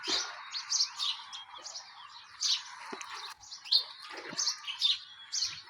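Busy sparrow chirping, many short high tweets overlapping in quick irregular bursts, fairly close and steady throughout with no voices.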